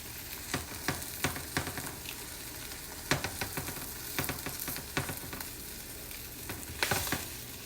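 A shrimp, bacon and corn quesadilla tortilla crisps in a frying pan, giving a soft sizzle punctuated by repeated crackling pops and spatter bursts, close and fairly quiet.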